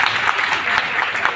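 A crowd at a political gathering claps in applause, a dense, loud burst of many hands with faint pulses in the rhythm and no speech over it.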